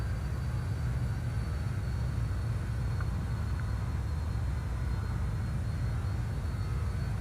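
Jet engines of a BAe146 airliner at full power in Microsoft Flight Simulator produce a steady, dense roar with a low rumble and faint high whine, constant and unchanging, with no voices.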